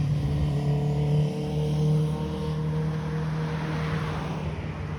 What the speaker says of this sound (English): that was a very loud motorcycle that just passed by